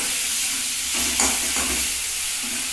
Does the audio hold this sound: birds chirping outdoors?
no